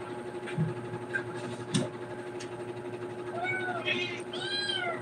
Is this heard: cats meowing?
yes